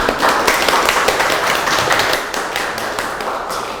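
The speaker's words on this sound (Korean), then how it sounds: "다시 한번 박수 부탁드리겠습니다" Audience applause closing a geology lecture on disaster risk in densely populated areas, a steady dense patter of many hands clapping that stays loud and even throughout.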